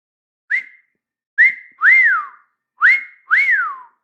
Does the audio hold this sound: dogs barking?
no